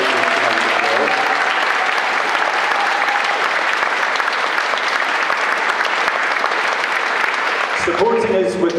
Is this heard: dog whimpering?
no